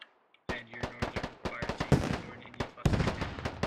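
Rapid bursts of gunfire and heavy impacts from a video game battle, where HEAT rounds are fired in a dense, irregular string of loud close cracks after a brief quiet start.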